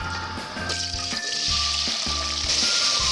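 Potatoes sizzle and crackle steadily as they fry in hot vegetable oil in a pot, with a rhythmic musical backing playing along underneath.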